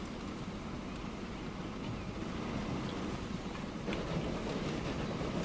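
A train rolls along the rails in Transport Fever 2, giving a steady, dense rumble with faint rail clatter that swells slightly toward the end, with no voices.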